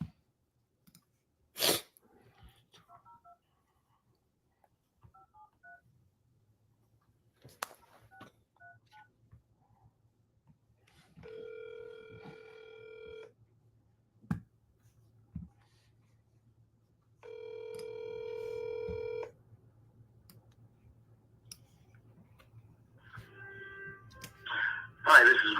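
An outbound phone call plays out: a sharp sneeze-like burst, scattered short dial-tone beeps, then two long ringback tones separated by quiet, and a noisy jumble of tones at the end as the line connects, with breathing and a brief voice.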